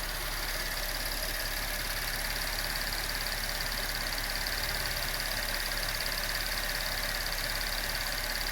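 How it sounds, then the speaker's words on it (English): Chevrolet Impala with a 3.6 LFX V6, freshly reassembled after upper intake manifold reinstallation, idling steadily with a constant even hum and slight vibration, recorded close up with no talking. "Seems to be idling nice."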